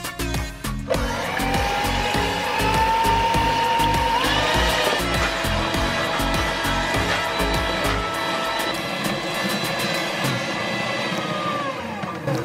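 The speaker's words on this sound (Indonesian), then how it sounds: "Telur 4 biji, terus di mixer sampai kaku." An electric hand mixer whirs steadily while beating four eggs until stiff for a bingka berandam dessert batter, a loud continuous motor whine whose pitch shifts slightly, with beaters rattling against the bowl.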